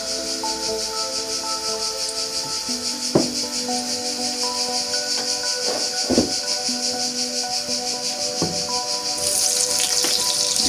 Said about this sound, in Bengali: দুই প্যানের ভিতরে আমি আর কিছু তেল দিব, দিয়ে বেগুনটা ভাজবো হালকা করে